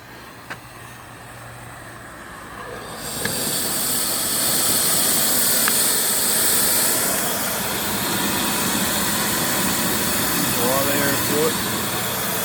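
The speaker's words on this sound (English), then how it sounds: "Blowers right here." The blower on a live steam engine boiler starts with a sudden rush and keeps hissing loudly and steadily beside it, with a few faint clicks underneath.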